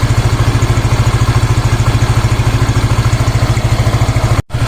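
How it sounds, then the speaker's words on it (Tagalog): A Yamaha Mio i 125 scooter engine idles at 1,600 RPM, a close, loud, steady low chugging pulse with even rapid beats, briefly cutting out near the end. "ito po talaga yung normal at tamang idle ng ating Yamaha Mio"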